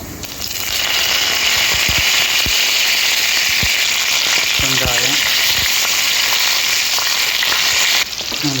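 Curry leaves with cumin, urad dal and mustard seeds fry in hot oil with a loud, close, steady sizzle, broken by sharp pops and crackles as they spit.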